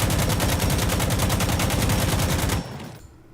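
An AKM rifle fired from a crouch in the shooter game Insurgency Sandstorm: one long, evenly paced automatic burst of loud, close shots that stops abruptly and leaves a short fading tail.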